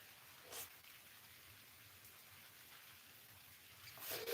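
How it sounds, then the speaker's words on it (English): Rain falling outdoors among trees: a faint, steady hiss of drops throughout, with a couple of slightly louder patters near the start and a swell at the end. "See this rain?"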